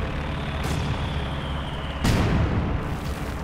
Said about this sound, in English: Also trying to do a bit of support here, some mortar, to Granatenwerfer.